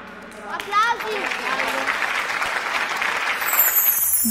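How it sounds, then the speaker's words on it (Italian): Loud, sustained applause and cheering from a group after a Me contro Te dance challenge, with a voice calling out briefly near the start before the clapping settles into a steady wash. "Applausi."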